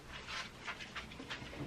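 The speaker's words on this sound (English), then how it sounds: "sorry the dog wants to get out" A dog at home pants and whimpers softly, eager to be let outside. Quick, steady breathy pants run throughout and stay faint and close, with no talking.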